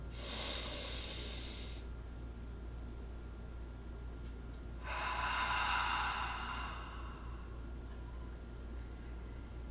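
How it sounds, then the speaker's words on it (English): Two slow, deep breaths with audible airy exhales, each a soft hiss lasting a couple of seconds, close and alone over a steady low background hum. "when you breathe out, you're going to release it and open your mouth. You can even make a noise if you want to"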